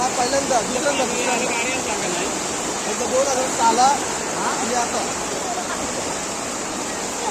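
Floodwater from heavy rain surges through village streets, a dense continuous roar close by that swells slightly in places and never lets up.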